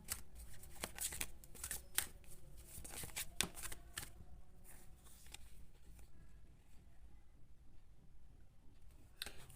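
A deck of tarot cards is shuffled close by in quick, soft riffling bursts, dense at first and then thinning into sparse flicks, quiet with no talking.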